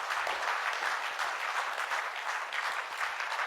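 Loud, steady applause from a crowd for the Ayurveda direct-selling company Top Time, dense clapping sustained throughout with no voices over it.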